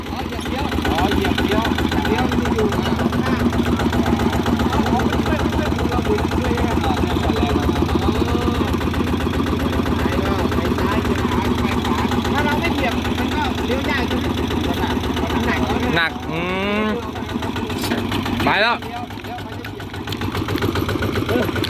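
A kraetae, a small Thai farm vehicle, runs with a loud, close engine chugging steadily for the whole stretch, briefly dipping near the end as people talk over it.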